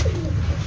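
A pigeon coos softly and close by in a loft, a low murmuring call over a steady background hum.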